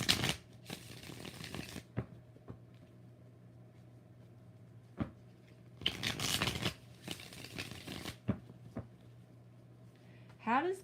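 Tarot cards are shuffled in several separate bursts of riffling and sliding, close and crisp, with quiet gaps and soft taps between them, and a brief voice at the end.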